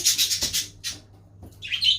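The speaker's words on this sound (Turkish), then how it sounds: "Kuşlar." Bright, high bird chirps in short bursts, two clusters with a brief pause between, close and clear with no talking.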